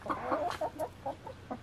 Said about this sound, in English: So that chicken's causing a ruckus again.